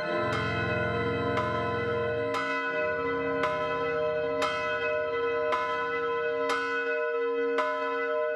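Church bells ring loudly with sustained tones, and about eight distinct strikes land at steady intervals over a long resonant hum, with no voices.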